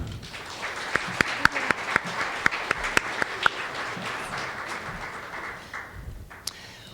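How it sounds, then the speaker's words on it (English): Audience applause for panelists at a social media panel event, a soft steady patter of clapping with several sharper individual claps standing out near the start before it thins and fades. "Please join me in a round of applause for our panelists who have volunteered their time today."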